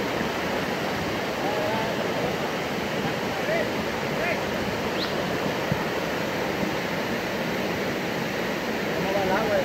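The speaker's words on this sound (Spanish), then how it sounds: "ahí va la creciente ahorita, miren, gente" A swollen river in flood rushes past in a loud, continuous roar of churning water, steady throughout with faint voices now and then beneath it.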